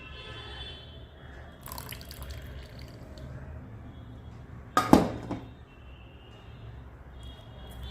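Thickened agar agar and sugar mixture is poured over fruit for a homemade dessert, giving a brief close splash and dribble midway, while faint drips and quiet kitchen sounds fill the rest.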